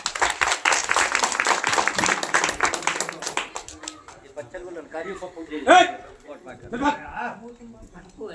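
An audience at a political party youth meeting breaks into brisk, dense clapping for a few seconds, then it dies away as chuckles and talk take over.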